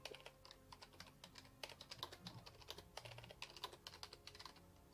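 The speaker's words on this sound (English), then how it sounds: "we can hear you typing" Someone types on a computer keyboard during an online tabletop roleplaying session. The key clicks are quick and irregular, faint and somewhat distant, heard alone without talk.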